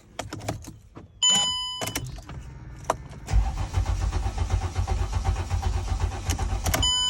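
A 2008 Mercedes-Benz C300 with many fault codes cranks but won't start: a few clicks and a dashboard chime come first, then a steady, loud starter-cranking drone runs without the engine ever catching.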